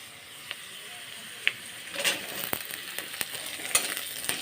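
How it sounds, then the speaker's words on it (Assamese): Dried fish sizzles in hot oil with fried onions in a pan, a steady soft hiss with a few louder pops and stirring scrapes, moderately quiet and with no speech. "এতিয়া মাছখিনি অকণমান ভাজি ল'ম।"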